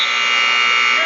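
A loud, steady electronic buzzer sounds continuously to end a period in a high school wrestling match, a single unbroken tone lasting about a second.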